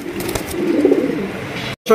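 Large Jharna satin pigeons coo in low, throaty bursts that swell midway, close by, before a brief cut and a sharper sound at the end.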